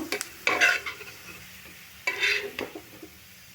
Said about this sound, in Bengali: পেঁয়াজটা ঠিক এরকম ভাজা ভাজা হয়ে গেছে আমি পেঁয়াজটা তুলে নেব